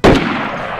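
A single loud, close gunshot from the DayZ video game in a winter Chernarus setting: a sharp crack that rings out into a short, booming tail.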